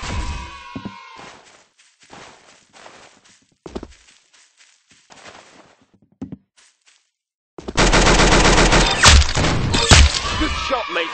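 Gunfire in the Roblox shooter Arsenal: a few scattered shots early on, then a loud, dense burst of rapid automatic fire in the final few seconds, with brief voices between the shots.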